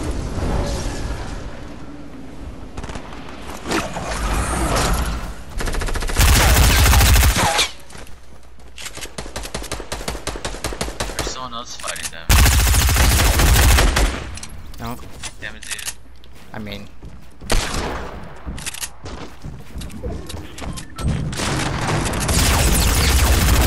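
Rapid bursts of gunfire and explosive blasts from the Fortnite video game come in loud, clipped volleys separated by brief lulls, with players talking over the action.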